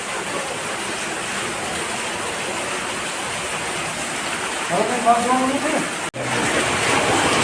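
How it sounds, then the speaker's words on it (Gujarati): Water from a borewell motor pump gushes in a steady, loud rush that runs the whole time, with a brief voice near the end and a sharp dropout just after. "મિત્રો ફૂલ પાણી આવી ગયું છે"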